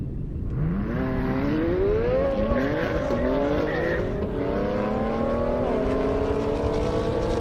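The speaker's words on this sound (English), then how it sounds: "Daniel with that C8 Z06 hard launch" A Chevrolet Corvette C8 Z06 launches hard at a half-mile airstrip drag race, its engine rising through loud, rising gear sweeps with tire squeal, close and continuous, then carrying on at a high, steady howl.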